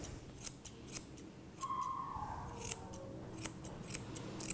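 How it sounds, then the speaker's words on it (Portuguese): Grooming scissors trim the fur behind a dog's paw pad. A series of quiet, crisp snips at an uneven pace sounds close up against a faint background. "Então levanta a pata, apoia aqui a tesoura atrás da almofada."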